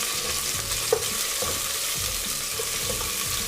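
Onions fry in a pot for village pilau while being stirred, a constant sizzle with rhythmic scraping strokes and one sharp clink of the utensil, close and fairly loud.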